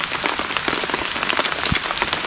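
Steady rain pattering on a surface outdoors, a dense, continuous hiss of drops with scattered sharper taps, close and fairly loud, with no talking.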